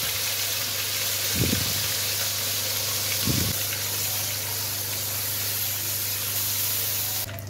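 Onion paste hitting hot oil with fried spices, a steady loud sizzle and hiss throughout, with two brief bursts of stirring or clattering in the pan.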